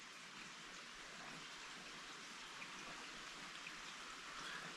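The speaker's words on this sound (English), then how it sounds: "And it's been raining all night." Steady rain falls on a morning in Tennessee in a continuous, even hiss, soft and unbroken, with no voices or other sounds.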